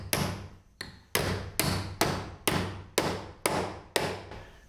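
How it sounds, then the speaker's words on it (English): Eight sharp hammer taps on a metal plate over wall studs at an even, unhurried pace, each strike ringing briefly before fading, close by with no talking. "I'm just going to line it up here with the studs and then tap it with the hammer"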